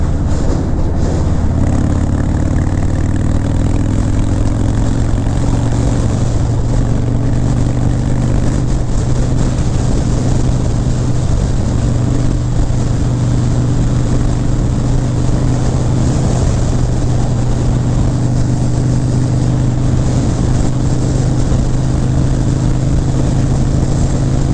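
A Harley-Davidson Breakout motorcycle cruises along a highway, its engine a loud, steady low drone mixed with constant wind rush, unbroken and close for the whole stretch.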